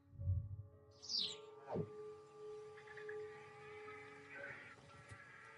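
Scattered bird calls ring out at a distance, a few separate chirps and cries spaced over a low steady hum.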